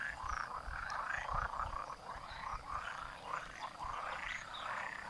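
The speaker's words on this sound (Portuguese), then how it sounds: "Esses pontinhos são sapos." A chorus of frogs croaking continuously in overlapping calls from marshy ground in a Swiss village, faint and somewhat distant, with a low background rumble.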